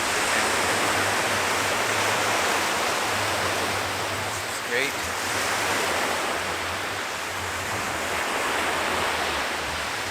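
Continuous roar of ocean surf washing close by, broad and steady, with a brief spoken remark partly buried under the noise.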